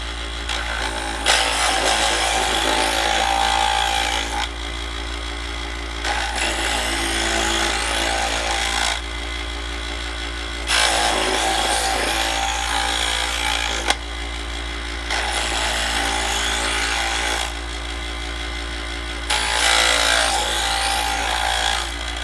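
An electric knife sharpener with sharpening and honing stones grinds a knife blade in repeated passes of about four seconds each, with a steady motor hum running between the strokes, close and loud.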